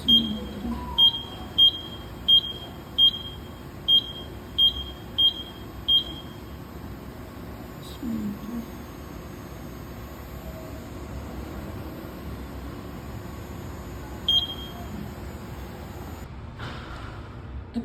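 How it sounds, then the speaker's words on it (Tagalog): A smoke detector chirps in a steady run of about ten short, high beeps, then falls quiet except for one more lone beep later, over faint background hum. "nga pala yung smoke detector"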